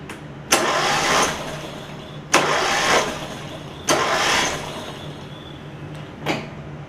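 Yard Machines riding mower engine, flooded with water, cranked by its starter in three long bursts and a short fourth one, each cranking spell loud and close with brief pauses between, no engine catching.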